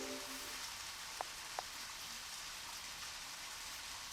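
Steady rain hiss falls through a car wash scene in the video game Deadly Premonition, with a couple of faint clicks early on and no voices.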